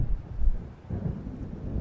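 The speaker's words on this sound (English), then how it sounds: "It seems there's a storm coming." Deep rolling thunder from an approaching storm in the video game Alan Wake, a loud sustained low rumble that swells, dips briefly, then surges again.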